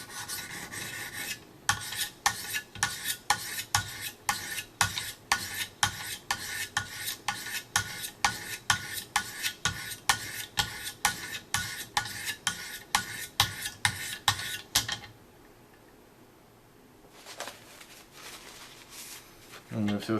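Knife edge drawn across 800 grit stones on a Wicked Edge precision sharpener, a steady run of rhythmic rasping strokes, close and even, that stops near the end and leaves a brief quiet gap.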